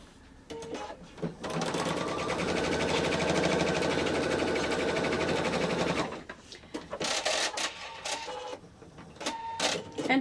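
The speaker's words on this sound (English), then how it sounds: "And sew this." A sewing machine stitches pieces of a crazy star quilt block, running steadily and loudly for several seconds before stopping, followed by light handling noises.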